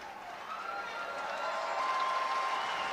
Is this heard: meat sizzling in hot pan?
no